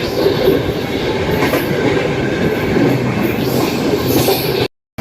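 Express passenger train 12394 running fast near Ghaziabad, heard as a steady, loud rumble and roar of wheels on rails with faint clatter, continuing unbroken until a brief cut near the end.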